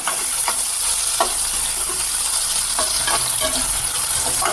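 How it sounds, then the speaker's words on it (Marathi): Onion and finely chopped tomato frying in oil in a pan, a loud, dense, steady sizzle close by, with spatula stirring strokes coming through at intervals and no talking. "भाजून घेतलाय कांदा आता त्याच्यामध्ये घालणार आहे एक कापलेला टोमॅटा"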